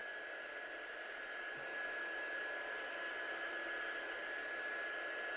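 A handheld heat dryer blows steadily while drying ink on a handmade stamped card, a constant loud whirring hiss with a thin high whine, running alone throughout.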